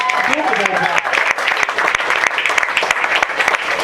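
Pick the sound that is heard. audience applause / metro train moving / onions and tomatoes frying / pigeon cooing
audience applause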